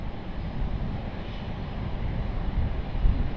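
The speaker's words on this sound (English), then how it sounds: "Air Canada on the roll." An Air Canada airliner on its takeoff roll at Raleigh-Durham airport makes a steady, broad engine roar that builds slightly toward the end, heard from a distance with no voices.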